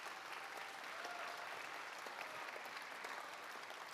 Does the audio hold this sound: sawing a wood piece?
no